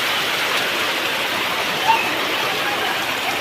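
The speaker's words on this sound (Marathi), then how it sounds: "जोरदार पाऊस पडतोय कोकणात" Steady, dense rush of heavy monsoon rain in the Konkan region, a constant wide hiss with no breaks and no voices.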